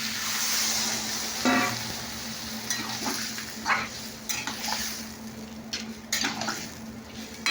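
Masala frying in a pan sizzles steadily after water is added, with intermittent scraping and clinks of a spoon stirring against the metal, close and alone without speech.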